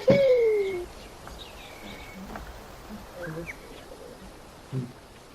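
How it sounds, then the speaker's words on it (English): A bird gives a loud, close call at the start with a falling whistled note, followed by quieter scattered chirps and faint noises in the background. "Did that thing just say pew pew pew pew? Sound like a bird."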